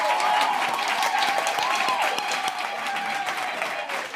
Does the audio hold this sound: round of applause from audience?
yes